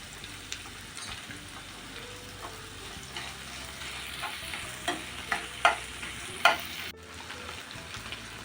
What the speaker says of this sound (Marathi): कांदा आलं लसूण पेस्ट घेतले ते पण टाकूया